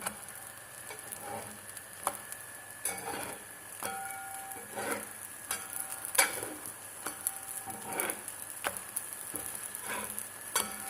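Shobab sizzles and fries in oil in a pan while the pieces are turned over, with steady crackling broken by sharp ticks and clatters of a utensil against the pan.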